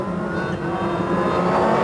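Rally cars on the Silverstone super special stage in 1998 drone with a steady, loud engine roar that holds throughout, with no pause or quiet gap.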